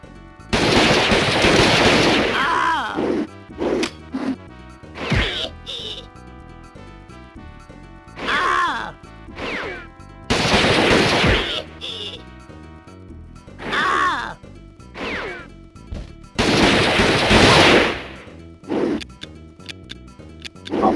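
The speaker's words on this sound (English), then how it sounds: "And you fire your weapon then." Weapon fire in the video game Euro Demo 78 comes in loud repeated bursts separated by short gaps, each a harsh sharp crackle, with no speech.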